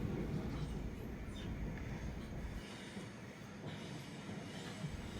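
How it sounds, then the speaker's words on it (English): A replica Class A1 steam locomotive carries a passenger train, heard as a steady rumble of wheels and carriages with faint rail clatter throughout, with no talking over it. "This steam engine is in fact only 12 years old and is a replica of the original Class A1 locos"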